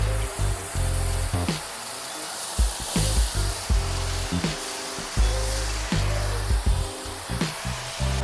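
A Conga ThunderBrush 560 vacuum cleaner runs with a steady broadband roar, its brush clattering and crackling as it sucks up a heap of rice in repeated bursts throughout.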